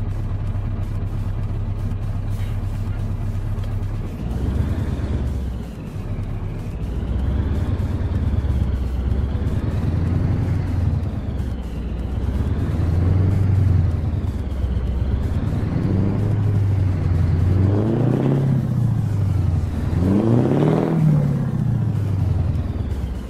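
A heavy truck engine in Euro Truck Simulator 2 rumbles and idles low, its pitch rising and falling in repeated revs, growing louder and rougher toward the end.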